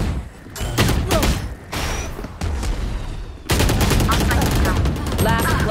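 Gunfire in a shooting video game erupts in dense, rapid bursts over a constant loud mix, with several automatic volleys overlapping and getting heavier toward the end.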